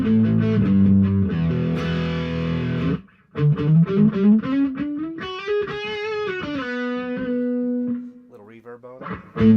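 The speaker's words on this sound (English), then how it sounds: "It's got more of a clean sounding, good, rich distortion" A distorted electric guitar plays through a Headrush FRFR108 speaker, thick, saturated chords and sustained notes, with a short break partway through before the riff resumes loudly.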